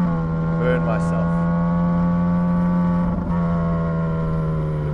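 Ferrari 458 Speciale engine humming at a steady, sustained pitch while driving, a close, continuous tone with a brief wavering shift partway through.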